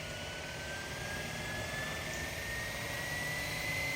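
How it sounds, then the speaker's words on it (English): A GPS-equipped RC helicopter spools up its tail and main rotors, a steady whirring drone with a thin whine that slowly rises in pitch, moderately loud and continuous with no talk. "Tail rotor always starts first. Main rotor spool up after."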